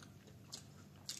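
Chicken drumsticks are bitten and chewed close to the mic, with two quick, faint crunchy bites over a low, quiet background.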